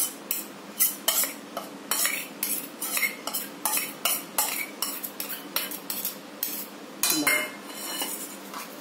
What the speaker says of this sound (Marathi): हे छान फेटून घ्यायचं असं